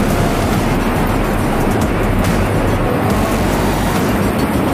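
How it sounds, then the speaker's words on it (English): A waterfall roars nearby while hiking near caves in Hamilton, a loud, unbroken broadband rush of water with no pauses. "So we're getting closer to something that some sort of waterfall. It's sounding quite loud right now."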